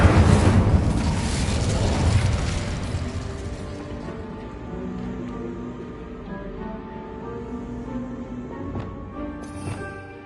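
Incendio fire spell cast in Hogwarts Legacy on PS5, a loud whooshing burst of flame at the start that rumbles and fades into a lingering low crackle and magical hum.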